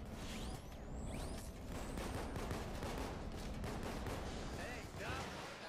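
Heavy gunfire in Payday 2, with dense rapid bursts and booming shots crackling continuously under faint game sounds, with a few whooshing passes.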